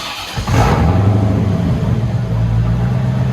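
A straight-piped 1991 Chevy Corvette with a 5.7L V8 revs up hard and holds a loud, deep, rumbling drone, close and dominant with no talk.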